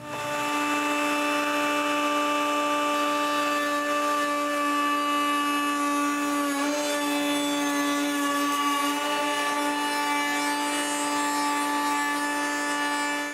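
A router bit cuts grooves into cabinet side assemblies for plywood panels, a steady loud high-pitched whine running continuously throughout with a slight dip midway and no talking.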